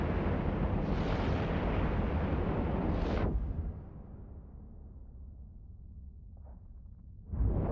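Rockets fire and explode in EVE Online as a loud, sustained roaring rush that cuts off sharply, leaving a low rumble before another burst begins.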